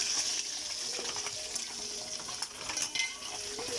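Vegetables cooking in a pan give a steady, soft sizzle with occasional stirring scrapes and light clinks, fairly quiet and continuous with no talking.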